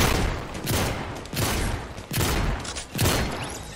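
Rapid bursts of gunfire from a Fortnite match, four loud close volleys about a second apart, each a dense rattling blast with short gaps between.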